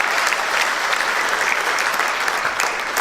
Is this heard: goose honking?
no